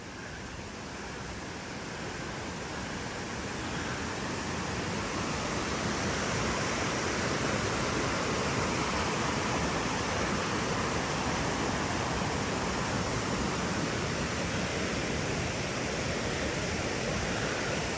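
A waterfall pours over the falls beside wooden overhangs, making a dense, steady roar of rushing water that holds constant throughout with no other sounds.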